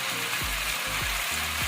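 Chicken pieces sizzling as they fry for a pasta dish, a loud continuous hiss with a few low pops or knocks from stirring, and no talking.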